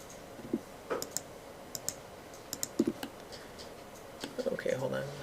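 Computer mouse clicks made while holding Control in the Blender 3D program: a few sharp, quiet clicks spread across the moment, with a person talking over them.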